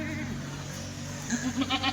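Kathiyawadi dairy goats bleat at close range, a short run of wavering calls coming in the second half over steady background noise.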